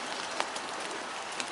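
Heavy rain pours steadily on an outdoor cricket ground, a dense, even hiss of drops with a few sharper splashes, fairly close and with no talking over it.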